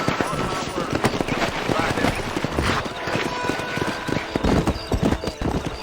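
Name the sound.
horses galloping, hooves clip-clopping, in video game Red Dead Redemption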